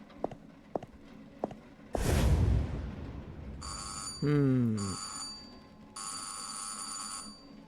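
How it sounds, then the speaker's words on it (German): A telephone rings in the horror video game Burnhouse Lane, two bursts of a bright electronic bell tone heard inside a house after footsteps, a loud rumbling whoosh and a descending warbling effect, with someone speaking briefly. "Telefon."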